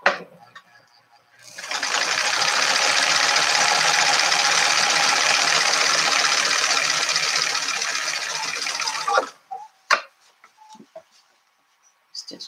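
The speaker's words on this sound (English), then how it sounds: "I'm going to stitch that across all the way around the whole thing," A sewing machine runs a long, steady stitch of about eight seconds around the liner of a fabric makeup pouch, close and loud, followed by a few short clicks and handling knocks.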